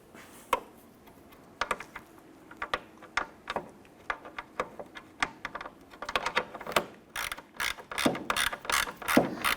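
Ratcheting clicks from a wrench tightening a nut on the corner light of a 1993-1997 Ford Ranger, close up, starting as sparse separate clicks and speeding into a dense, louder run near the end, with no talking.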